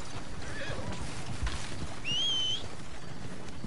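A horse in the video game Red Dead Redemption 2 lets out a short, high whinny midway through, heard over a steady hum of background game ambience with faint hoof sounds.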